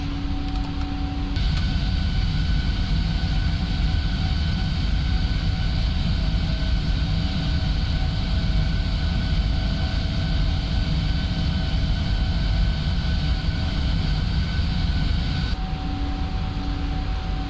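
A PMDG 777-300ER jet in the Prepar3D flight simulator climbs after takeoff, a steady, loud cockpit roar of engines and airflow with a constant hum and a few brief chimes, continuous and unchanging throughout.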